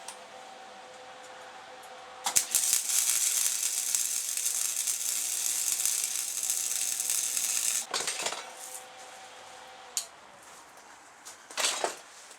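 Welding on the grate of a homemade tractor cab: a loud, steady hissing crackle of an arc runs for several seconds, stops, then returns in short bursts.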